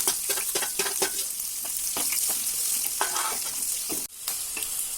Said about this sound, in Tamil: இது எல்லாத்தையும் வந்து நல்லா வதக்கிக்குவோம்